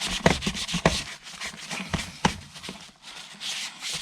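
A fibrous Scrubs in a Bucket wipe is rubbed across a surface in a run of short, uneven scrubbing strokes, with a few sharper scratchy bursts, close up and with no talking.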